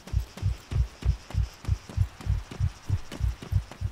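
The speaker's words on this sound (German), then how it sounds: "Der Herzschlag dröhnt in meinen Ohren hier." Heavy heartbeat thumping in the game Breaking Point, low and booming right up close, each beat a quick double pulse in a fast, even rhythm, with nothing else heard alongside.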